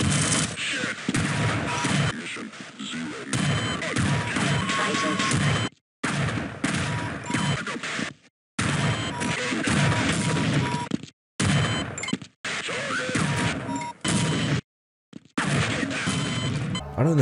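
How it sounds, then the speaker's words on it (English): Half-Life soldiers firing a grenade launcher and shotgun, dense bursts of gunfire and explosions in several loud stretches separated by abrupt silent cuts, with a voice talking over much of it. "One is scripted to fire his grenade launcher, one has a shotgun, and the other just locks onto you."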